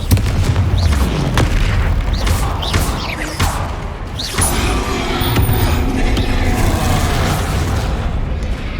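Bombarda spell explosions from the video game Hogwarts Legacy, a loud, sustained rumbling roar punctuated by several sharp booming blasts in quick succession.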